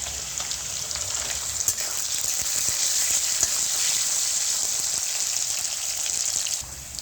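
Potatoes fry with salt in hot oil seasoned with kalonji and green chillies, a dense rain-like sizzle that holds steady and close for several seconds before easing off at the end.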